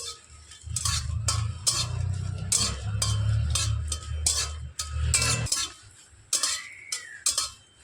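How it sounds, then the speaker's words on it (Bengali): Dried red chillies are dry-fried in a wok for mango pickle, heard as repeated metallic scrapes and taps of a stirring utensil against the pan over a low hum. "নাড়াচাড়া করে আমি লঙ্কাগুলোকে কিছুটা ভেজে নিয়েছি।"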